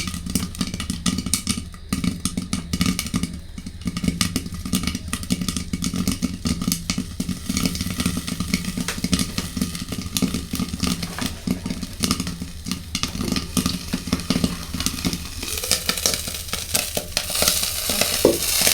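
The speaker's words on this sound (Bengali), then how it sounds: "দেখেন কি সুন্দরভাবে ফুটতেই আছে" Homemade popcorn popping in a pan on the stove, a dense continuous crackle of kernels bursting over a steady sizzling hiss, loud and close throughout with no talking.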